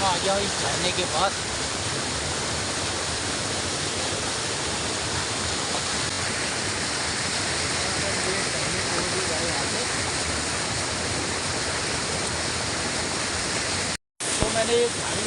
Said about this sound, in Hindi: आ गया इस झरने के पास।